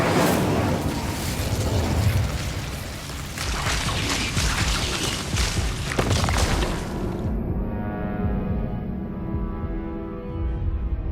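Incendio fire spell cast in Hogwarts Legacy, a loud roaring burst of fiery blasts and crackles that rumbles for several seconds, then cuts to a softer lingering hum.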